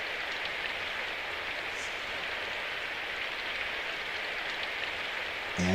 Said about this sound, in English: We live in a town where it always rains